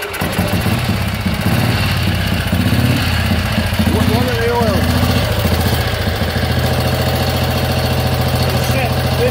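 A 1936 Sunbeam Model 9 500cc vintage motorcycle engine running after a kick start, a loud close single-cylinder chug that idles steadily at an even rhythm while people talk nearby.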